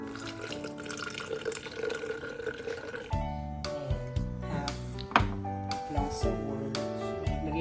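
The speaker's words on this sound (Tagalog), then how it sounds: "lagay tayo ng isang glass of water" Water poured into a glass while making dalgona coffee, a running, trickling pour with a few sharp clinks and drips.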